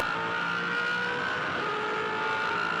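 A Supercars race car engine drones at sustained high revs around the track during a Repco Supercars Championship race, steady and fairly loud, with no voices over it.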